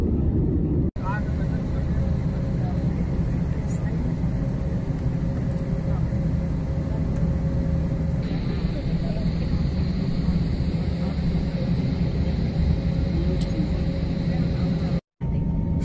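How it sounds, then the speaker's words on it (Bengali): An IndiGo airplane on a Kolkata to Goa flight gives a steady, loud broadband engine and cabin roar that runs throughout, with people talking over it. "এটাই আমাদের প্লেন ইন্ডিগো। তো এই প্লেনে করেই আমরা গোয়া রওনা দেব।"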